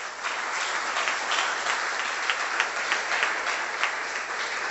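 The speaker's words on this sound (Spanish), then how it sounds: "Dé un aplauso a la palabra de Dios." Sustained applause from a Pentecostal evangelical church congregation, a dense steady wash of many hands clapping with small swells, heard alone without speech.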